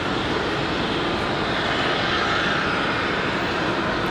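An American Airlines jet airliner roars steadily at an airport, a broad continuous engine rumble that stays loud and even throughout with no voices.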